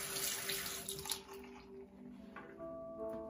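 Water runs from a tap into a sink during face washing, a steady hiss that fades partway through and then comes back, close and fairly quiet.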